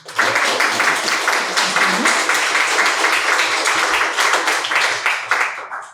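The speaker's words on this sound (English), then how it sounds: "Can we have a warm round of applause to welcome our first speaker, Lizzi Collinge?" Audience applause welcoming the first speaker at a Labour electoral reform event, a dense, steady round of clapping from a roomful of people, fairly close and sustained for several seconds.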